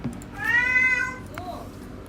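A house cat lets out one drawn-out, rising and falling meow close by, followed by a softer short chirp, over quiet room tone.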